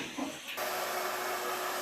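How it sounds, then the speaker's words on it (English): A vacuum cleaner sucks dirt and debris out of a window track, switching on after a brief quiet moment and then running as a steady, loud, unbroken whoosh at close range. "So let's vacuum that up and clean it up before we get any further."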